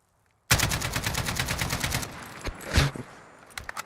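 Rapid automatic gunfire from a gun in a video game, a loud close burst of rattling shots lasting about two seconds, followed by a few scattered single shots.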